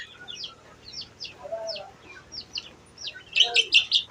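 Desi chicken chicks, some large and some small, peep in quick high chirps that come in scattered bursts. The calls grow louder and denser near the end, with a few lower clucks mixed in.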